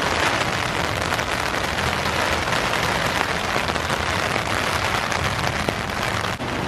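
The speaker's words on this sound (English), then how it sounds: "You can hear the raindrops falling on my head." Heavy rain pours down outdoors during a flood-swollen storm, a dense, steady hiss of raindrops falling close by with no letup for the whole stretch, loud and continuous.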